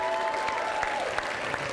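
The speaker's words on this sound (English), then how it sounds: "give yourselves a round of applause for this." A keynote audience claps steadily in a dense wash of applause at an event hall, while a voice speaks briefly at the start.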